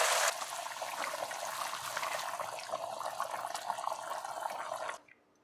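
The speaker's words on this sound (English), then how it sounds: "So we are adding hot water." Hot water pours steadily into a pot of rice with a continuous splashing, bubbling rush, close and fairly loud, stopping abruptly near the end.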